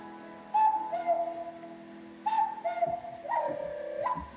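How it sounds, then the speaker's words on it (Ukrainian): A zozulka, a Ukrainian folk whistle, gives three cuckoo-like phrases of falling two-note hoots, clear and pure, separated by short pauses, played at a children's orchestra concert in Lutsk. "А так звучить зозулька"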